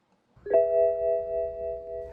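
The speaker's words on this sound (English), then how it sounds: "You will hear a warning gong and a fault message on the instrument cluster" A BMW E9x M3 sounds its warning gong during steering angle calibration: one clear chime strikes and rings out steadily for over a second and a half, loud and alone.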